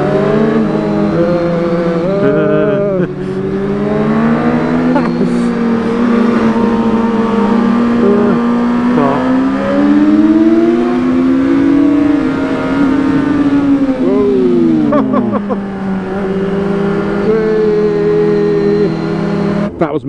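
Older budget motorcycles ridden flat out on the German Autobahn in Bavaria: a loud, continuous engine roar with rising and falling pitch through gear changes, plus steady wind rush throughout.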